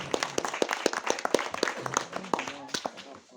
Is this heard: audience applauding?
yes